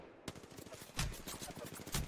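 Automatic gunfire bursts during a gunfight in the video game Apex Legends, with rapid repeated shots and a few louder impacts, close and continuous over a faint background.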